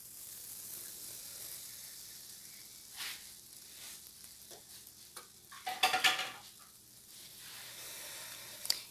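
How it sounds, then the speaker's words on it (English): A butter and flour roux being stirred in a pan for cheese sauce, with a soft sizzle and scraping strokes, then a cluster of sharper clinks of utensil against pan near the end; quiet and close. "I'm melting my butter, and then once it's melted, I'm going to add the flour to start the roux to make our cheese sauce."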